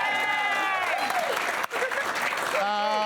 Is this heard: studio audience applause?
yes